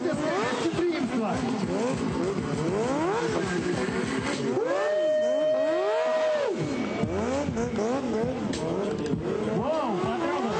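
Stunt motorcycle engine at a stunt show, revving up and down in rapid swoops with a long sustained high rev in the middle, loud and close throughout over crowd noise.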